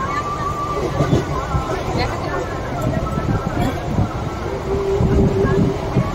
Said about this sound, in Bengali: এই দেখুন, আমরা ট্রেনে করে যাচ্ছি।